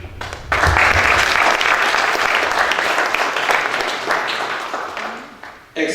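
Sustained audience applause at the official launch of the African Celebrities Magazine (ACM), loud and dense for about five seconds before tapering off, with a brief burst at the end.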